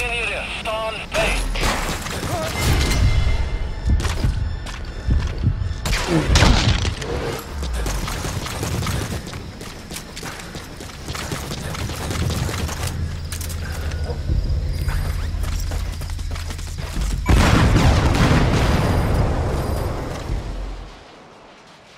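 A separator tank blows up in Metal Gear Solid V: The Phantom Pain, with heavy booms and rumbling blasts amid mechanical clanking and game sound, loud throughout with a big surge near the end and voices at times.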